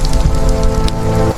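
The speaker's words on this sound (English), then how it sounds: "The first rains bring relief to a land that has waited too long for them." The first rains falling on dry land, a loud, steady patter and hiss of rain under a sustained droning tone, close and continuous until it cuts off near the end.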